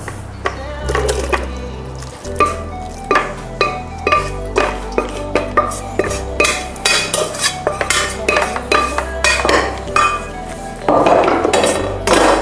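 A utensil scrapes and knocks against a warm pan as its contents are tipped into a food processor, giving repeated close metallic clanks, scrapes and clinks in an irregular rhythm.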